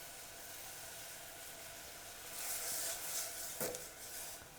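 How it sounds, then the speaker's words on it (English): Sake added to a hot pan for ramen broth bubbles and sizzles steadily, swelling louder midway with a brief scrape of a utensil against the pan, close and without voices. "We're going to add in our sake. It's going to bubble up."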